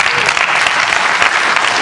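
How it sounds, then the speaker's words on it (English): Dense applause from a keynote audience fills the clip, a steady wash of many hands clapping loudly and evenly with no break. "Almost every lady clapped except for Karen"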